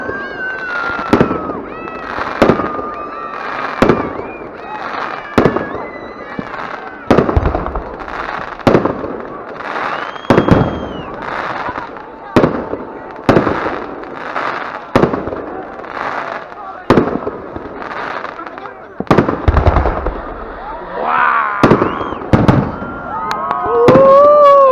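New Year fireworks explode in a long, irregular barrage of loud bangs and crackling bursts, some with whistling trails, while people talk and exclaim nearby.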